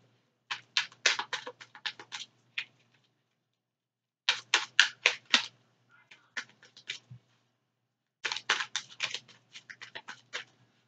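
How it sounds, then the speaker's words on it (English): Tarot cards riffle-shuffled for a psychic reading, in three bursts of quick crisp flutters separated by short pauses, close and fairly quiet with no talking. "And I'm going to shuffle three more times."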